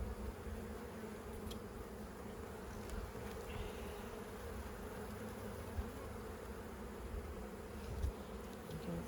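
Honeybees buzz in a steady, dense drone throughout an open-hive inspection of a colony in spring, holding a low, continuous hum with no talk over it.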